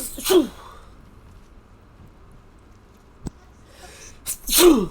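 Two sharp sneezes, one near the start and a louder one near the end, from a character in Baldur's Gate 3, with a short spoken word between them.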